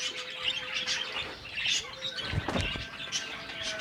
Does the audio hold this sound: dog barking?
no